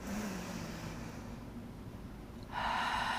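A single deep inhalation, drawn slowly and heard alone for about two and a half seconds, then gives way to a steadier, brighter airy sound as the breath shifts.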